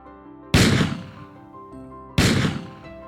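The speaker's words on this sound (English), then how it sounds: "Wow, 2 shots." Two loud, sharp gunshot blasts about one and a half seconds apart, each decaying quickly over a sustained musical tone.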